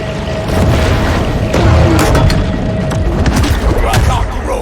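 A torpedo explosion in the video game Maneater: a loud, deep boom that rolls into a sustained, roaring rumble with crackling debris, filling the whole moment at close range.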